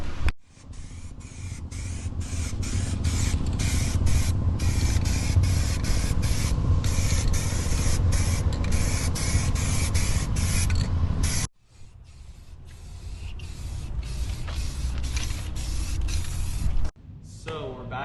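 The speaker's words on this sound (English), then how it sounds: "the first step we're going to do is hit it with this self-etching primer" Self-etching primer sprayed from an aerosol can onto the front driveshaft of a 1998 Dodge, a steady loud hiss broken by short pauses between passes, then a second burst after a brief stop.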